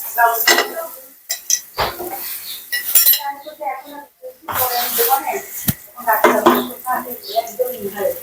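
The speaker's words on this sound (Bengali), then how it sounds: "এখন দিয়ে দিচ্ছি সেমাই সেমাইগুলো" Vermicelli being stirred and fried with nuts and raisins in a pan, with loud repeated scraping and clanking of a spoon against cookware over a soft sizzle, interrupted by bursts of close speech.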